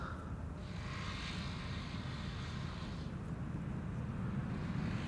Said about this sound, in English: A no reverser landing. Not even idle reverse, but a no reverse landing.